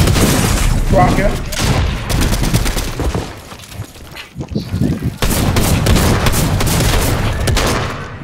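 Gunfire in Fortnite rattles in rapid, loud bursts of overlapping shots, with a short lull in the middle before heavy firing resumes, while a player talks over it.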